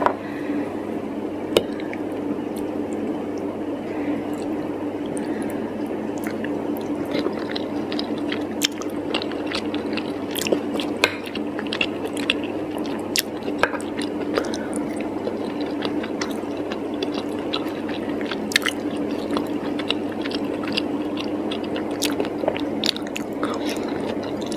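Close-up chewing and squishy bites of roast chicken and a creamy, cheesy cauliflower and potato bake, steady and intimate, with occasional clicks of cutlery on a plate; no talking.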